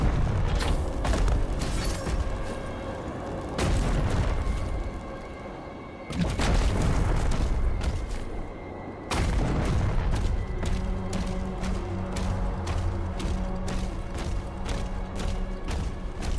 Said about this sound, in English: I'm shooting all the enemies.